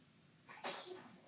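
One sudden sneeze bursts out at close range, short and fairly soft, with quiet stillness before and after.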